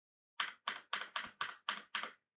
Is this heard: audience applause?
no